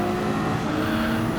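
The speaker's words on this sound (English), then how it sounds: "You can still hear the Lambo buzzing around on the left-hand side there." A Lamborghini race car in the video game Gran Turismo 7 drones with a loud, continuous engine buzz at steady revs throughout.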